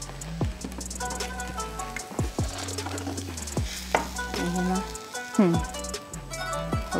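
Meat and sausage pizza filling sizzles in a pan while being stirred, with repeated scraping strokes and clinks over a steady close frying hiss and a low hum.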